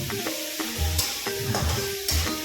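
A spoon scrapes and knocks against a pan in a steady rhythm as potato curry is stirred, with a soft sizzle of frying underneath and no voices.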